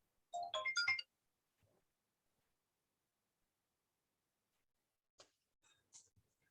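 A phone ringtone sounds briefly at the start, a short bright melodic burst lasting under a second, followed by faint clicks and quiet handling noises in an otherwise silent room.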